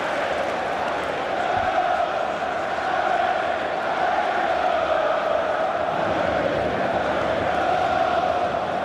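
A large stadium crowd at a football match gives off a dense, continuous roar, a steady wash of massed voices with no single shout standing out.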